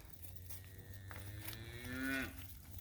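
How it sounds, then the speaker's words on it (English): Cattle on a farm moo loudly and close by, one long drawn-out low call rising in strength toward its end, over a steady low background hum. "As y'all can see, our starving cows."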